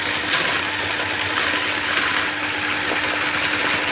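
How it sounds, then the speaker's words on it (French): Electric chopper blitzing hazelnuts for homemade spread, a steady dense whirring buzz with rattling nut pieces that holds at even loudness for the whole stretch, close by and uninterrupted. "mettre mes noisettes dans mon hachoir comme ceci"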